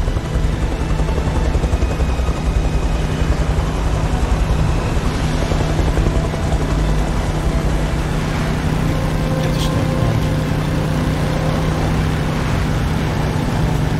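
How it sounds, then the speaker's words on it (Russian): A helicopter in the video game Beyond: Two Souls, a constant loud rotor and engine drone with a low steady hum, continuous for the whole stretch with no voices over it. "Жесть, вертолет."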